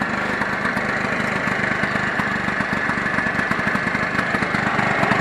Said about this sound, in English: Alright, this bike is ready to go. It's running.